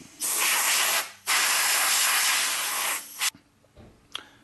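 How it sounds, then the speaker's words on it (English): An airbrush blows grit and loose metal off small parts in two long, loud hissing bursts of air, each cut off sharply, followed by a brief faint puff. "just airbrush these off a little bit here, make sure that there isn't any remaining grit from the sandpaper or loose metal"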